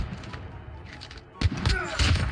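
Gunfire in a dark-map battle royale video game, several sharp close shots in quick succession with booming low thuds and brief echoing tails, a voice talking faintly in between.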